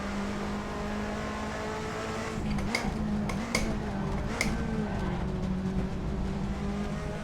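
Turbocharged race car in Assetto Corsa at the Goodwood Festival of Speed hill climb, engine droning steadily up close with rising and falling revs, a few sharp gear-shift crackles and faint tyre scrub partway through.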